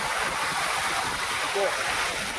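A constant, heavy rush of water flowing through dam gates at a small dam in Karnataka, a broad roaring wash with no breaks, loud and steady.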